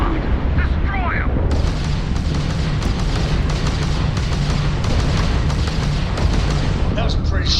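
Starship weapons firing at an enemy ship in Starfield, a continuous barrage of booming blasts and rumbling explosions, loud and dense, with brief game voice bits near the start and end.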